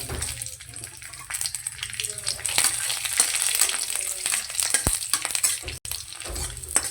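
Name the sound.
dried chillies, nigella seeds and garlic frying in hot oil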